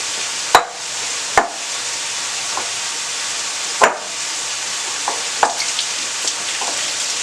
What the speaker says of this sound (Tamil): இந்த சிக்கன் ஃப்ரை ஆகுது